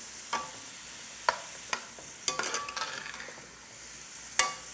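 Onions cooking in a pot for boiled shrimp, stirred with a utensil that knocks sharply against the side several times, a brief scraping run in the middle over a faint background hiss.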